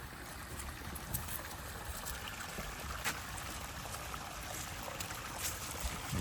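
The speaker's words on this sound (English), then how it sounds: "We're getting somewhere because the water's getting more powerful." Water rushing steadily outdoors in nature, a continuous broadband wash with small splashy accents, heard at moderate distance with no talking.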